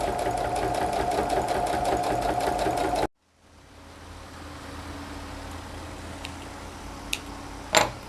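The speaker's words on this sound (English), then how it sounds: "So I'm sewing this on the wrong side to finish" Sewing machine stitching a wrap skirt waistband from the wrong side, running steadily and loud for about three seconds, then stopping abruptly, followed by a quiet room with a few faint clicks and a small handling knock.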